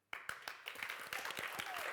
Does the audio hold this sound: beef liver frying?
no